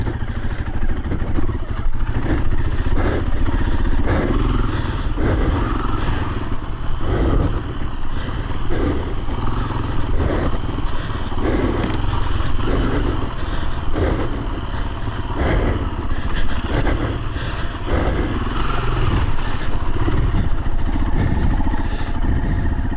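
A 500 dirt bike's engine chugs and revs in pulsing bursts while riding off-road at an OHV park, close and loud throughout. Its throttle opens and closes rhythmically with clattery, low-gear thumping and some wind buffeting.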